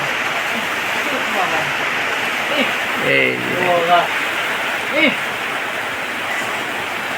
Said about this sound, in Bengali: মুসুল ধরে বৃষ্টি পড়তেছে মুসুল ধরে